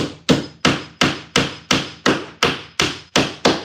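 Small pins hammered into inch-thick cedar timber boards while fitting out a podcast studio: ten even, sharp hammer blows in a steady rhythm about a third of a second apart, close and loud, with no talk.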